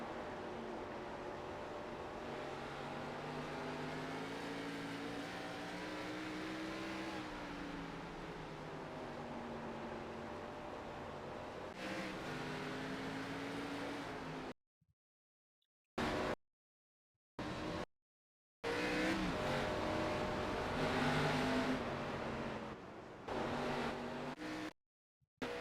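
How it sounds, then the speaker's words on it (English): ARCA stock cars racing at Nashville Fairgrounds, a loud continuous engine drone with rising and falling pitch as cars run the oval, cut by several abrupt dropouts to silence before the roar resumes. "Green flag, we're racing."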